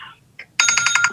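A speaking-time timer rings at a Billings city council meeting, a bright electronic chime that starts abruptly and pulses rapidly and loudly after a brief faint tone.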